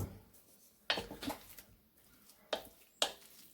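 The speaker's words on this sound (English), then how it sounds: "Then I'll stir it up" Pulled turkey being stirred with barbecue sauce, heard as a few sharp utensil knocks and scrapes against a pot or bowl, spaced apart with quiet gaps, close and fairly soft.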